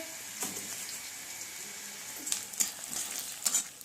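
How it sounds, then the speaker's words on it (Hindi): Onion tempering sizzles and crackles in a hot pan, a steady frying hiss with occasional sharper pops and stirring clinks, nearby and without speech. "प्याज में तड़का लगा"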